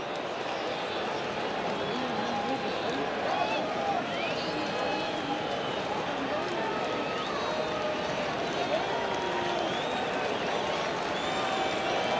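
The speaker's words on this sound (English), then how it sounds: "The crowd buzzing." A baseball stadium crowd between the Toronto Blue Jays and Arizona Diamondbacks keeps up a steady, dense buzz of murmuring and scattered cheers late in a tense at-bat, with a broadcaster talking over it throughout.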